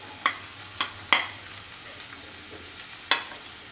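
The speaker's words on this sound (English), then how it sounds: "Then now add the peas," Peas go into a frying pan for samosa filling, a spoon scraping and tapping the pan in a few distinct knocks over a soft background sizzle, with no talk.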